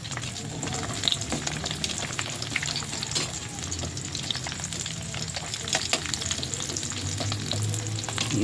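Dried fish (tuyo) sizzles in a small amount of oil in a pan, a continuous close crackling hiss with occasional pops and stirring noises.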